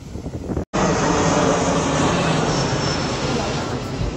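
An airplane roars overhead near a beach, a loud continuous engine rumble and hiss that holds steady after a brief cut, with no talking.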